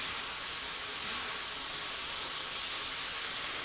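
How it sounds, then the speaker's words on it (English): Cabbage frying in bacon fat in a pan gives a steady, even sizzle and hiss, close and constant throughout with no pauses. "And it's frying really good."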